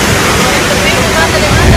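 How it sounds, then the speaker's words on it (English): A waterfall in Golden Gate Park pours with a steady, loud, broadband rush of falling water that fills the whole stretch without a break. "He knew there was a waterfall in the middle of Golden Gate Park."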